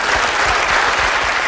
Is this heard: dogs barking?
no